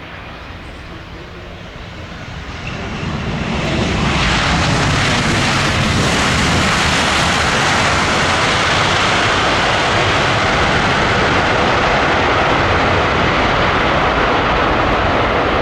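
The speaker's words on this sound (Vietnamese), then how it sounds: "Còn bây giờ là Boeing 7879 Dreamliner của Qatar Airways, chiếc máy bay thực hiện chặng bay từ Doha, Qatar về đến sân bay Tân Sơn Nhất" A Qatar Airways Boeing 787-9 Dreamliner lands at Tan Son Nhat airport in Ho Chi Minh City, its broad jet roar swelling after a few seconds into a loud, sustained rush that stays strong to the end.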